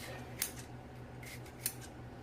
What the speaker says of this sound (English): But I like to cut my peppers like this.